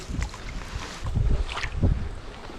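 A kayak scrapes and pushes through a shallow creek, its hull grinding over gravel and shallow water in rough, uneven bursts close to the microphone, with some wind noise and no talking.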